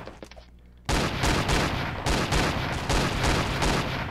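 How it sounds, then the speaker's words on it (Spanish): A fierce gunfire exchange in the Roblox game Robloxia neighborhood: after a quiet start, a dense, loud barrage of rapid repeated shots erupts and keeps going without a break. "Eso es un tiroteo, tiroteo a sangre fría."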